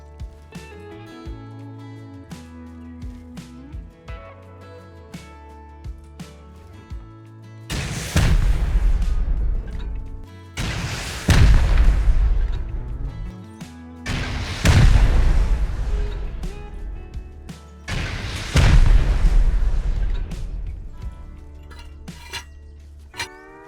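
Rocket explosions during a raid in the game Rust: four heavy, booming blasts spaced a few seconds apart, each with a long rumbling tail, over quieter clinking background.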